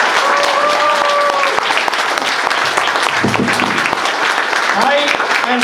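Loud, sustained applause from an audience in Sacramento, California, honoring Justice Katju, dense clapping throughout with cheering and voices rising over it and someone talking partway through.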